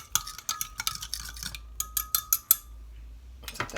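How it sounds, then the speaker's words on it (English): Ingredients being mixed with a fork in a bowl for crockpot ranch pork chops, a quick run of light clinks and scrapes against the dish, close and fairly quiet, pausing briefly before a few last strokes. "Now I'm just going to mix it up with a fork."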